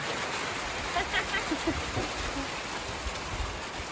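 Steady rain falls over rural rice fields in the evening, a continuous broadband hiss with scattered drip accents, with a voice speaking over it.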